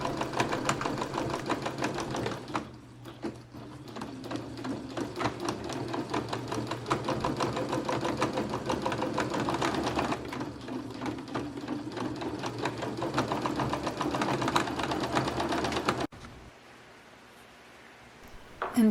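A sewing machine stitches the side seams of a skirt in a long fast run of rapid rhythmic clatter, pausing briefly near the start and stopping abruptly near the end.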